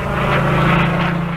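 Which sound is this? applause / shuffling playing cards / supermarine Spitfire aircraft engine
supermarine Spitfire aircraft engine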